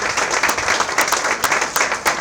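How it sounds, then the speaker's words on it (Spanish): An audience applauds at a talk session on death, a brief burst of dense, continuous clapping from many hands, fairly close and even in level from start to finish. "Un fuerte aplauso para Guille."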